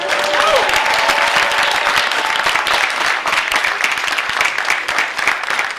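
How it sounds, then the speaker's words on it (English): Steady, close applause from a lecture audience fills the whole stretch, dense clapping at even loudness, with a brief voice at the start. "so you can clap about that too."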